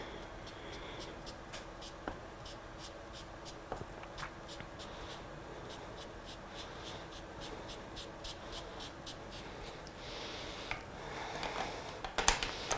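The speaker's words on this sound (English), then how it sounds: "I am going to sponge within those splat marks as well, because they do add detail to the card" Ink being sponged onto a stamped card inside splat marks: soft, quiet, repetitive dabbing and rubbing in an even rhythm, close up, with a few small taps and a brief rustle near the end.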